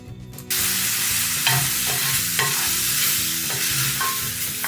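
Chopped tomato and onion with ginger-garlic paste sauté in a pan for macaroni, giving a steady close sizzle with repeated stirring scrapes and no talk.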